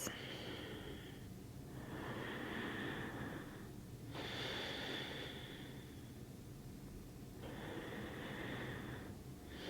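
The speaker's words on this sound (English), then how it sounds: "few deep breaths" Slow deep breaths during a yoga session, each long inhale and exhale rising and fading as soft airy rushes in a calm, regular rhythm, close and quiet with no talking.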